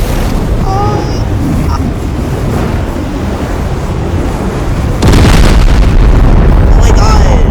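In the Teardown video game, an asteroid explodes and destroys a space station. A rumbling bed of noise gives way to a sudden loud, sustained blast about two thirds of the way through.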